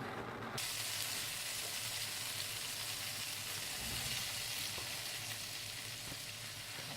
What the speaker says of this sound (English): And so I'm just going to fry it off now.